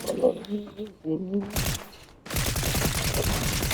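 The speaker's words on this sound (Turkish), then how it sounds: "Adamın tepesinde mermi yağdırarak indim" Rapid automatic gunfire rattles in the Fortnite video game, a dense burst of shots following a short stretch where a person talks.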